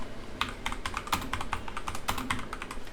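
Rapid, close typing on a computer keyboard while writing a Python while loop, with uneven bursts of crisp key clicks and no talk.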